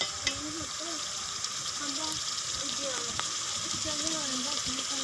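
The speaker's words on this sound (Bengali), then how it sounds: "মরিচ মশলাগুলো আমি ভালোভাবে কষিয়ে নিব।" Chili and spices being stir-fried in a pan for a rural home-cooked beef curry, with a steady sizzling hiss and scraping of the spatula running throughout, moderately close.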